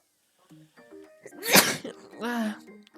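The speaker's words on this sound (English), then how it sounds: "I feel like I'm going to sneeze." A single sharp sneeze bursts out mid-clip, preceded by a few soft vocal sounds and followed by a brief voiced exhale.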